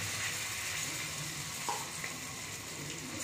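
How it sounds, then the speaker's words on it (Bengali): Paneer, potato, capsicum and peas frying on a high flame, giving a faint, even, continuous sizzle with a small clink partway through. "হাই ফ্লেমে ভাজতে হবে এগুলো।"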